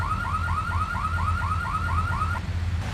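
A car alarm in Grand Theft Auto III whoops in a steady, rapid repeating chirp for over two seconds, loud and unbroken over a low engine-like hum, then cuts off abruptly with no talking.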